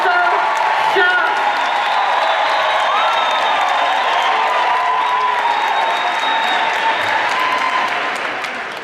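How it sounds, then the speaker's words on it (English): Conference audience at a business keynote breaking into loud, sustained applause with whistles and shouts, a dense roar of clapping and cheering that tapers slightly at the end. "I need you to give me a big round of applause, loud noise, whistle, shout."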